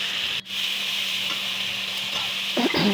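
Drumstick stems frying with spices in a pan for a fish curry, a constant close sizzle with a brief dip and a few scraping stirs near the end.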